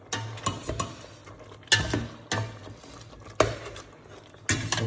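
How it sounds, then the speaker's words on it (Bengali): Marinated duck meat being stirred in a pan, with several distinct clinks and scrapes of a utensil against the cookware coming in bursts, spaced about every second or so, at close range. "সো তার মধ্যে আমি ম্যারিনেট করা মাংসটা দিয়ে দিলাম। এবার এটাকে নেড়ে চেড়ে নেব।"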